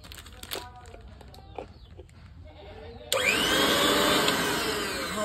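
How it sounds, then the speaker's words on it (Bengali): A low-cost mixer grinder, newly unboxed, switches on partway through its test run and roars loudly and steadily, following a few clicks and knocks as the jars are fitted. "কারেন্ট চলে এসছে, এখন আমি মিক্সারটা টেস্ট করে নিই।"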